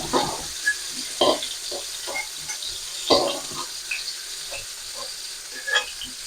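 Cauliflower florets frying in hot mustard oil in a wok, giving a soft steady sizzle broken by scattered crackles and the clatter of stirring, close and fairly quiet with no talk.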